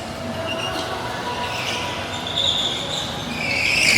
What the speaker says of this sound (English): You hear the squeal of the tires there